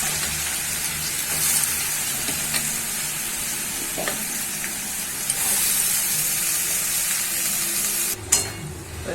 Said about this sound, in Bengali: এবার আমার তেল হয়ে গেছে লাউগুলো দিয়ে দেবো